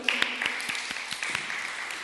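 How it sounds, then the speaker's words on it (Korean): Applause in a Korean church service welcoming a first-time visitor, scattered claps over a steady wash of hands, fairly close and moderate, with a few sharper individual claps standing out. "박수로 환영할까요?"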